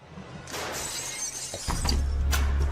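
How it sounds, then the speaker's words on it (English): Glass shatters in a crash, a sudden bright breaking burst followed by scattered tinkling pieces and a low rumble, fairly close and alone. "they hear a crashing sound like broken glass"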